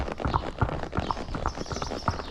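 A horse walks at a steady pace during real-time training, its hooves clip-clopping in an even rhythm, fairly close and clear against light background noise.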